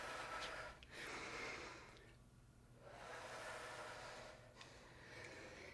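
A pet dog lying near the camera snores, giving slow rhythmic breathy snorts close by, several long inhales and exhales in a quiet room.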